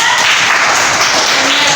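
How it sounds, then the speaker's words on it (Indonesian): A class of students claps for a classmate in a school science lesson, a short burst of dense, loud hand claps filling the whole moment. "Tepuk tangan buat Zida."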